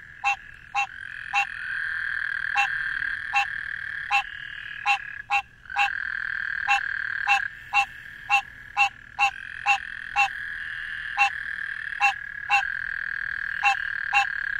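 Green tree frog calling repeatedly at night, a steady series of sharp, evenly spaced nasal croaks over a constant chorus of insects or other frogs, close and fairly loud.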